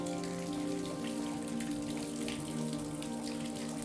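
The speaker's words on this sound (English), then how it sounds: "This is the loudest I've ever heard water inside a cave" Water from a stream above seeps and drips down inside Alabaster Caverns, a quiet, continuous patter of drops and trickling that echoes softly in the cave with no voices.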